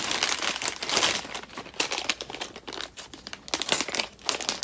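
Plastic packaging crinkles and rustles repeatedly as red miniature figures for a train-themed Kickstarter board game are unwrapped, with bursts of crackling close to the microphone.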